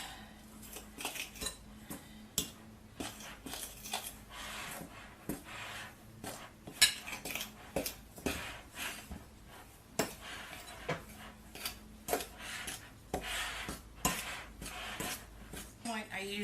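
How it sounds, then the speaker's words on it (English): A fork stirs communion bread dough in a bowl, giving repeated quiet clinks and scrapes in an irregular rhythm, close and soft with no talking. "Take a fork, and I'm just going to stir it around"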